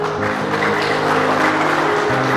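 Wedding guests applaud at a church marriage blessing, giving a dense, even patter of clapping layered over sustained music tones throughout.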